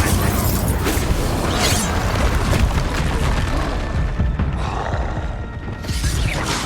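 A Confringo explosive spell going off in the Hogwarts Legacy video game, a heavy booming blast that rumbles on with a creaking, mechanical tail and then fades.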